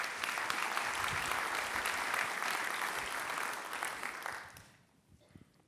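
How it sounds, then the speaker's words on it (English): An audience at a civic meeting about Long Beach building projects applauds warmly, a steady wash of clapping that carries for several seconds before fading out toward the end. "join me in giving them a round of applause and a thank you"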